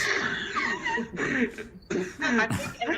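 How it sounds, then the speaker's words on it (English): A short burst of coughing amid a muffled, noisy room, with bits of chuckling and voices mixed in. "That cough sounded very COVID-y."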